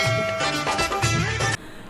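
A short bright bell-like chime, a phone notification sound, rings out in a couple of quick tones, clear and close, then stops abruptly.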